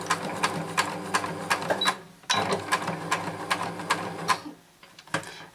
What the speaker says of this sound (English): I'm going to do a few stitches forward and then back stitch.